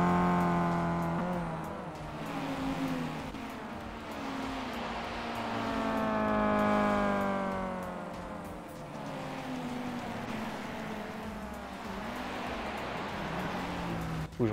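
Renault Megane 3 RS drifting on the Nürburgring in a racing game, its engine revving in long rising and falling sweeps as it climbs and drops through the gears, loud and continuous, with a short knock at the very end.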